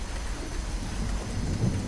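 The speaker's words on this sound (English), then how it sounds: "How long this rain's been going, I woke up to the sound of it." Steady rain with rumbling thunder falls at a riverside village, a dense continuous hiss over a low, rolling rumble with no voices.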